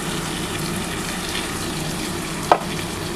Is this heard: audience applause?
no